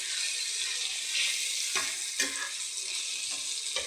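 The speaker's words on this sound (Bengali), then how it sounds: "পেঁয়াজ টমেটো আমার ভাজা হচ্ছে।" Onions and tomatoes fry in a pan with a steady, close hiss and sizzle, broken by a few soft stirring scrapes.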